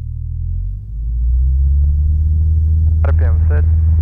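A small aircraft takes off from runway 09 and its engine rumble builds to a loud, steady, close drone, with a brief voice heard over it near the end.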